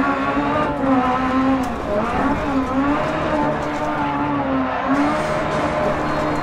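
A Peugeot 207 rally car in DiRT Rally at Höljes, Sweden, its engine droning and revving loudly with wavering pitch, rising and falling continuously, alone and close.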